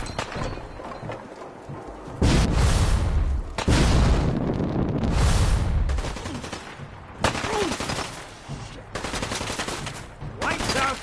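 Loud, booming bursts of gunfire in the video game Fallout 4, several heavy volleys with explosive thumps separated by short pauses, close and forceful.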